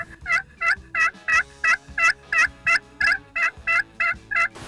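A hand-worked turkey call imitates a hen's yelp in a long, evenly spaced run of about a dozen raspy, nasal notes. The sound is close and loud, with no talking.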